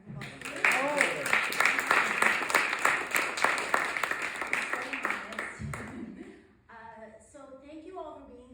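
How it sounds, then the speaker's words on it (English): An audience at a poetry reading at the Walt Whitman Birthplace gives a round of applause, about five seconds of dense clapping that tapers off before a voice resumes speaking. "let's give her a big round of applause"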